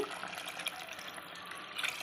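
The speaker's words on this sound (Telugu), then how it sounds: "ఇంకా వాటర్ పోసుకోవాలి వాటర్ సరిపోవు" Water pouring steadily into a pot of drumstick and mutton curry, a soft continuous rushing splash, fairly quiet.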